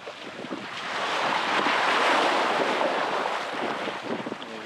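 Ocean waves wash through a high-tide water crossing on Darocotan Island, Palawan, Philippines, a loud, steady rushing surf mixed with heavy wind buffeting the microphone, swelling and holding for several seconds with no one speaking.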